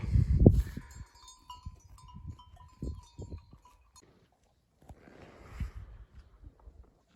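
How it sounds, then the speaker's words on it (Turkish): A wild goat kid bleats in a mountain flock on misty Nurhak peaks, a few short near calls with gaps between them and occasional low rustling and snorts. "Çok tatlı, çok güzel bir kuzu"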